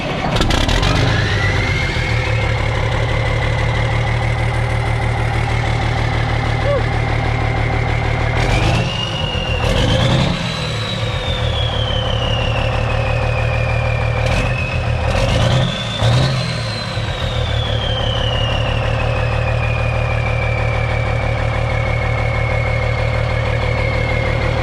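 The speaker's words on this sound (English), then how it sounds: "Now we're gonna hear what it sounds like straight pipe." A 1991 Peterbilt 379 truck engine running on straight pipes. It idles loud and close throughout, with two brief revs that rise and fall around the middle.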